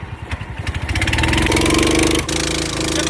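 Motor boat engine running near the Omkareshwar shore, a steady mid-pitched chugging drone that starts with an uneven putter and settles into a continuous close hum, with no talk over it.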